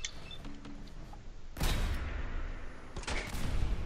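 Gunfire from the Fallout 4 video game: two sharp, loud broadband blasts about a second and a half apart, each followed by a decaying rumble, over low in-game ambience.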